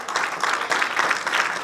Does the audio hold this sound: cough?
no